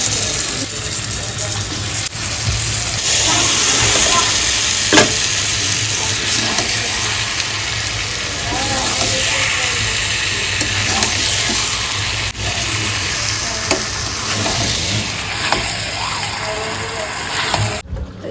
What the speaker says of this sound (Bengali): মশলাটা ভালো করে কষিয়ে নিয়েছি, যে এবার মাংস দিয়ে দেবো। মাংসটা লবণ হলুদ আর তেল দিয়ে মাখিয়ে দিতে হবে।